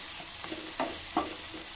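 Chopped tomato and capsicum frying in a pan, a steady soft sizzle with a few faint scrapes of stirring, no voices.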